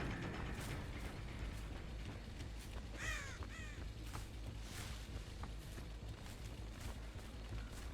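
Crows cawing in the horror video game Dead by Daylight, a few harsh caws around the middle over a steady mechanical ambient drone, faint and somewhat distant, with no talking.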